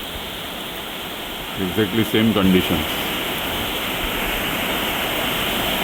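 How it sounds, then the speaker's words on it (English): Post-monsoon rain falls steadily in Mapusa, Goa, in mid-October, a dense, even hiss that runs the whole time, with someone speaking briefly partway through. "The streams of rain are falling in sort of a rhythm."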